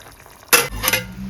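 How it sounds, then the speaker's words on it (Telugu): Brinjal curry cooking in a pan: a sudden loud burst of stirring and sizzling, with a second scraping surge, close and alone without talk. "వంకాయ కర్రీ వండుతున్నాను."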